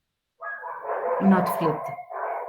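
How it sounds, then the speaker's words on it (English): Dogs barking indoors in a home, breaking out in bursts under steady conversation between people. "Sorry about my dogs."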